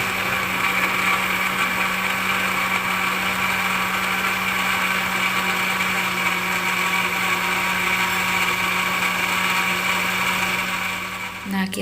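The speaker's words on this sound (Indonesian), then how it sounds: "Kemudian kita blender sampai kurmanya benar-benar halus." A kitchen blender runs steadily, pureeing dates with a little sweetened condensed milk into date milk: a loud, continuous high whirring motor drone that holds unbroken for about twelve seconds before cutting off at the end.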